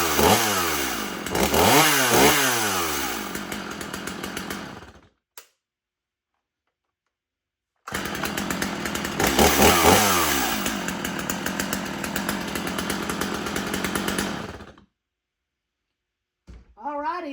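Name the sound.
chainsaw engine running, firewood saw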